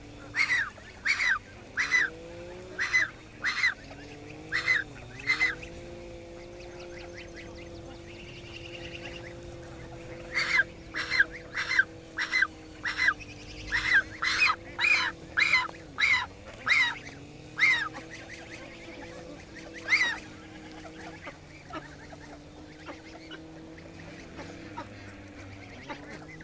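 Domestic geese honk in repeated loud bursts, pausing now and then, over a low steady hum at a farmyard pen.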